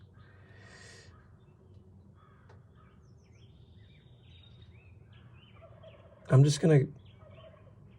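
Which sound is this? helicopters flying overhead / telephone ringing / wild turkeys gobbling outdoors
wild turkeys gobbling outdoors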